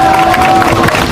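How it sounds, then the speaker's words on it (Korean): Applause from a crowd at an outdoor protest rally outside a government complex, a brief, loud, dense wash of clapping with a voice over it. "다시 한번 큰 박수 부탁드리겠습니다."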